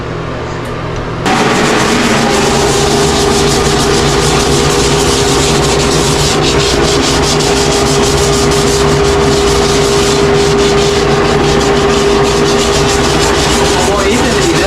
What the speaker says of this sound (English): The residue of the foam we'll go ahead and scrape off.